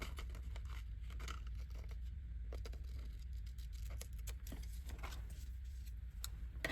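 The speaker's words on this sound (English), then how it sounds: "I want to cut this out like so" Scissors snipping through a glossy magazine page while cutting out a picture for a collage, a string of quick close crisp cuts and rustles over a steady low room hum.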